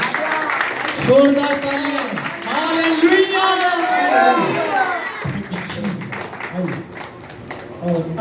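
Audience applause fills a church worship festival, sustained clapping and crowd noise under someone shouting and singing a hallelujah over it, the clapping continuing as speech resumes.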